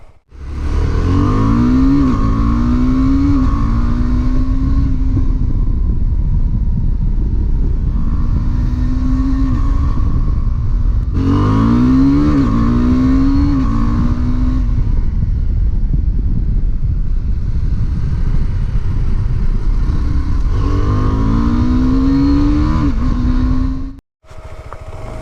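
A 2021 KTM 390 Adventure motorcycle accelerates hard and upshifts through its gears without the clutch using the quick shifter. The engine note climbs and drops quickly with each shift, in repeated loud runs up close, and no one speaks.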